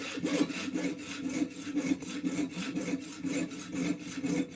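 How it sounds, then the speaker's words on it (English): A hacksaw cuts through brass stock in a workshop, giving a steady rhythmic rasp of back-and-forth strokes, about three per second, close and moderately loud with no voices. "instead of using the parting tool, I use a hacksaw"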